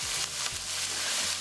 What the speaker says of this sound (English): onion, garlic and thyme so that we can start to cook that off